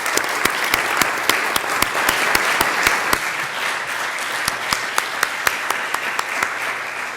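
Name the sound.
audience applause for panel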